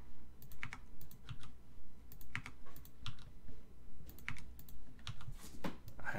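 Rapid, light mouse clicking while discarding items in the game Might and Magic VI, a close series of crisp taps in irregular clusters with no voices.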